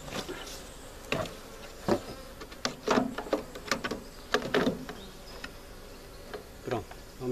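A swarm of honeybees buzzes steadily during a capture into a cork hive, with a dense, droning hum broken by sharper bursts and handling knocks close by.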